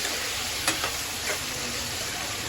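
Chopped onions sizzle in hot oil for a tadka in a home kitchen, a steady bright frying hiss with a few sharp stirring clinks early on, close and alone without talk.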